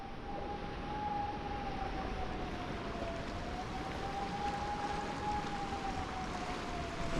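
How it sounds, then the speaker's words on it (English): Distant warning siren on a Cumbrian river announcing the tidal bore coming upstream, a steady faint wailing tone that drifts slightly in pitch, sustained throughout over low outdoor background noise. "Now that is a siren to warn people that there's a boar coming up the river."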